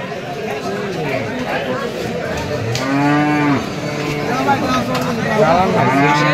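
At a busy cattle market, a cow lets out a loud, close moo, with people talking and chattering all around it.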